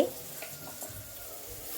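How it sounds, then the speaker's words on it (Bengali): Chopped tomato dropped into fried masala in a pan, giving a soft, steady sizzle with light stirring scrapes, fairly quiet and close, with no voices. "মশলাটা যখন বেশ ভাজা ভাজা হয়ে গেছে তখন একটা টমেটো কুচি এর ভেতর দিয়ে দিলাম।"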